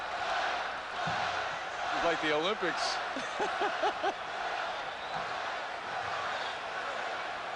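A basketball arena crowd at the 1986 NBA Slam Dunk Contest chants a name in rhythmic bursts, a broad roar with whoops under it, while a commentator talks briefly over the noise.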